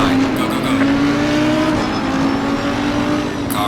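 Race cars roar off the start of an opening lap in Assetto Corsa Competizione, a loud, continuous blend of engines climbing through the revs, with a second car's note layered close by.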